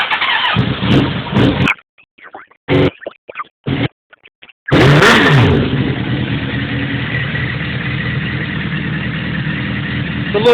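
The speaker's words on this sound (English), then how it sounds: "let you listen to the new Yosh pipe" A Suzuki GSX-R 1000 motorcycle fitted with a Yoshimura RS3 exhaust cranks and fires, sputters through a few short revs, then settles into a loud, steady, deep idle close by.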